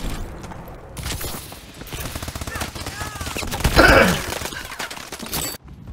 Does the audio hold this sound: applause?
no